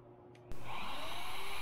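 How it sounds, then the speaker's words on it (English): A router cutting aluminum set into a wooden dining table leg starts abruptly after a quiet half-second, then holds a loud, steady high-pitched motor whine and cutting roar with no voices. "So the router did in fact cut the aluminum"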